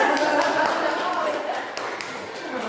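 A group claps together at a school session on positive culture, a continuous, fairly loud patter of hands with voices underneath that slowly eases off.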